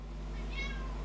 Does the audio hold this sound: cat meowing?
yes